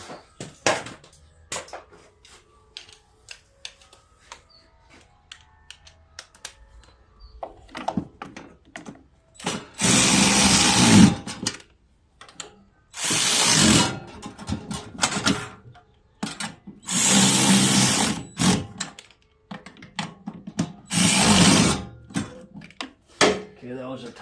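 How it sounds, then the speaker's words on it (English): Bolts on the carburetor of a John Deere Z445 zero-turn riding mower are run down with a socket on an extension: four short, loud mechanical bursts separated by quieter handling noises. "Okay, those are tightened down."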